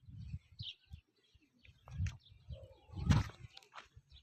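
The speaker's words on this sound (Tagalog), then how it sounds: "Pakinggan ang huni ng ibon." Birds chirp and call intermittently outdoors, with soft cooing and a few scattered footsteps; moderately faint, no talking.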